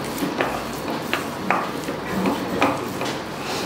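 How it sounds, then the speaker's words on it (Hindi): Khoya being stirred and roasted in a ghee-greased kadhai over low to medium flame, with a spoon scraping and clinking against the metal pan in irregular taps over a soft steady background. "अब जो खोया हमने लिया है उसको हम भून लेंगे इस तरह से कढ़ाई में ग्रीस"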